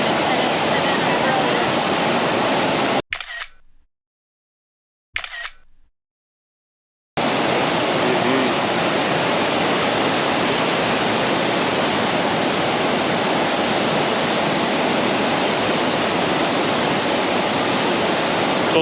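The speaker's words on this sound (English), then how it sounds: "A lot of water flowing through, a lot." Datanla Waterfall in Dalat, Vietnam, roars with a steady, dense rush of water, loud and continuous apart from two brief cuts to silence early on.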